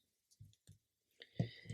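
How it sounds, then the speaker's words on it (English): Scissors snip through crochet yarn after finishing a round of single crochet, giving a few quiet, close clicks and snips with short pauses between them and no voices. "I'm just going to take my scissors, I'm going to cut this yarn because we're done with that yarn now"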